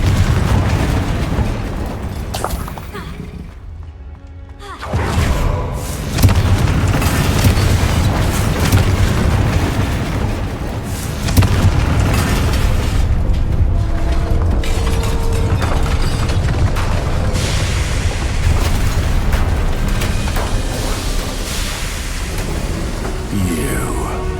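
A Confringo explosion spell goes off in Hogwarts Legacy: a deep rumbling blast surges in after a brief lull and rolls on as a dense, loud boom and crackle, with game voices mixed in.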